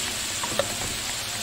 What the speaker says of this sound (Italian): qui già inizia a soffriggere